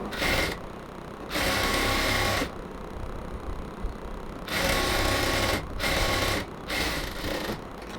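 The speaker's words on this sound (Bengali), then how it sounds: "জয়েন্টটাকে আমরা খুব সুন্দরভাবে ওভারলক করে নিয়ে আসছি।" An overlock sewing machine stitches the joining seam of a child's frock fabric in several loud, steady bursts of whirring, separated by short pauses.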